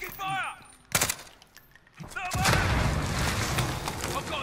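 Bursts of gunfire in a Call of Duty match, a sharp volley followed by a sustained roar of shots and explosions, with voices talking over the game.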